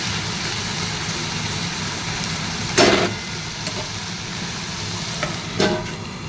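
Stirring and frying food in a pan with turmeric and flour added, a steady low sizzle with two brief scraping stirs, close and moderately loud, no talking.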